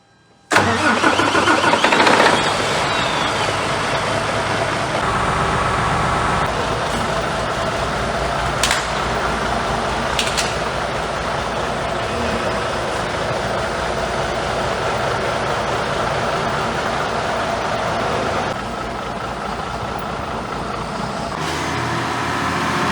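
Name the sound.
truck diesel engine starting and running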